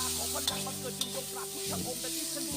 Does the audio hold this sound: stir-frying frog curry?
yes